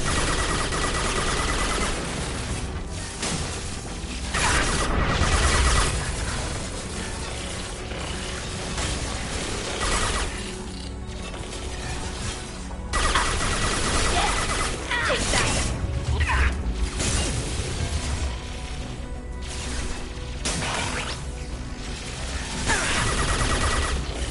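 Sustained gunfire in Mass Effect Legendary Edition combat, a steady clatter of shots and impacts running throughout, loud and mixed with battle noise and brief squad callouts.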